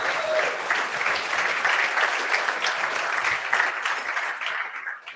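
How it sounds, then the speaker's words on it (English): Sustained applause from a luncheon audience, steady and fairly loud for several seconds before tapering off at the end. "Give him another round of applause,"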